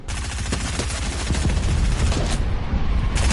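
Video game gunfire from enemy players, a dense continuous barrage of rapid shots with heavy low booms, loud and close throughout with no pauses.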